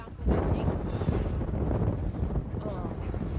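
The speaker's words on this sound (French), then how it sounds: "C'est un petit peu venteux." Constant roaring wind buffets the microphone outdoors at a seaside fort, a dense rumbling rush that stays loud throughout, with voices faintly mixed in.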